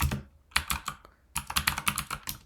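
Fingers type code on a computer keyboard in quick clattering clusters of keystrokes separated by short pauses, close and crisp, with no voice.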